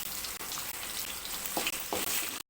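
Chillies, shallots, garlic and tamarind sauté in a hot pan, giving a dense, close hiss and sizzle that runs steadily with brief gaps and a few stirring scrapes before it cuts off abruptly.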